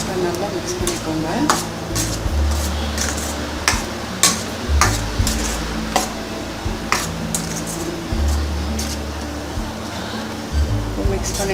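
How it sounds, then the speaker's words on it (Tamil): Snake gourd kootu being stirred in a pan gives repeated scraping and clinking strokes at a steady, close rhythm over a low background hum, with no talking. "போட்டு நல்லா மிக்ஸ் பண்ணிக்கோங்க."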